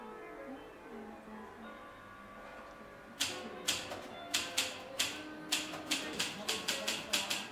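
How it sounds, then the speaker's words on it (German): A manual typewriter being typed on, sharp key clacks arriving in quick irregular bursts after a quiet start, close and clear with a faint background hum. "auch den Klang des Tippens, des Klackens und das beflügelt mich einfach so beim Schreiben"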